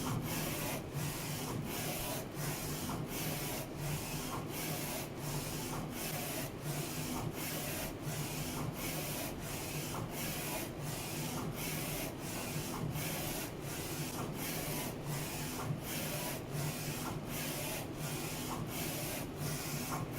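Flatbed UV printer laying down a varnish layer over white and CMYK ink, with a steady mechanical whir and a regular rhythmic pulse of the print carriage passing back and forth throughout, continuous and close, with no talking.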